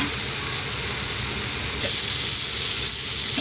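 Tomato masala sautéing in a pan for a dal-style side dish, producing a loud, continuous hissing sizzle that holds steady throughout.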